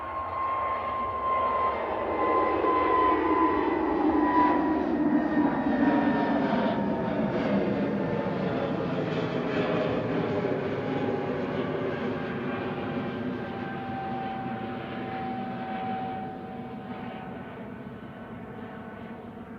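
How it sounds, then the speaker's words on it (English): An EasyJet Airbus A320neo departs Manchester Airport for Ibiza, its loud jet roar with whining engine tones swelling and then slowly easing as it climbs away, steady and unbroken with no talking. "EasyJet departing to Ibiza"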